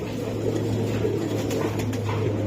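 Racing pigeons cooing softly in a loft among birds offered for sale, low and murmuring over a steady background hum.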